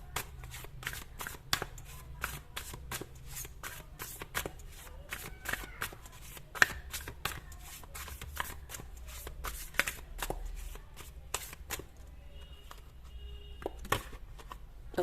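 A tarot card deck is shuffled continuously nearby, with rapid, crisp riffling and flicking of cards in a steady rhythm and a few soft taps.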